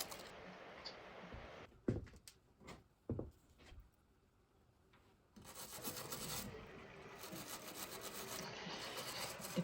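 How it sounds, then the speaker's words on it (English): Rust is scrubbed off handmade screws from antique entry doors. A few sharp scraping strokes are followed by a quiet pause, then steady rubbing and rasping close by, with no talking. "Right now I'm trying to clean out the rust"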